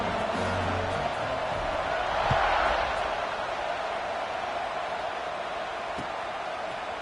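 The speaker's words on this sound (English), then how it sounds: "this crowd is buzzing after that last score" A football stadium crowd buzzes in a broad steady roar that swells briefly, with a commentator's voice over it.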